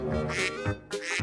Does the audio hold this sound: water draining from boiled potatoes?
no